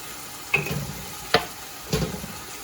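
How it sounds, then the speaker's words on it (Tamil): Onions and tomatoes sauté quietly in a pan, with a soft background sizzle broken by three sharp scraping stirs of a spoon against the pan. "அரைச்சது முழுசாக போட்ட வெங்காயம் தக்காளி எல்லாம் நல்லா வதங்கிடுச்சு"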